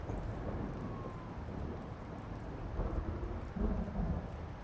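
Thunderstorm ambience in the video game Blacksad: steady rain hisses throughout, and low rolls of thunder swell near the end.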